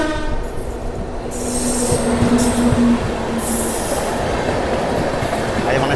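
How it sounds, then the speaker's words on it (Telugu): The AP Express, running from New Delhi to Visakhapatnam, rushes past alongside a moving train with a loud, continuous rumble and clatter, and a sustained horn tone rises through the middle. "సో మన పక్కన వెళ్ళే ట్రైన్ కానీ చూసుకుంటే ఏపీ ఎక్స్ప్రెస్ ట్రైన్"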